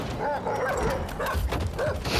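Dog-like creatures in the video game Death Stranding 2 bark and yip in a rapid, loud, close series of calls, with a faint mechanical whirr underneath.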